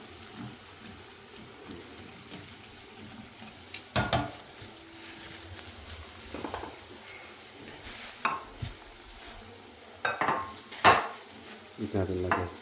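Lumpiang shanghai spring rolls frying in a home pan, a low steady sizzle broken by louder clinks and scrapes of a utensil against the pan at irregular intervals, with no talking.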